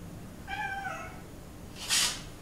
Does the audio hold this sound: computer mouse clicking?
no